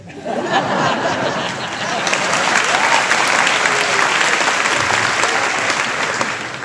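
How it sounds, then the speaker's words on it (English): A graduating class and audience break into loud applause during a valedictory address, clapping that swells after the first second and stays thick, with scattered laughter and chatter mixed in before fading slightly at the end. "I would appreciate a round of applause after every single thing I say"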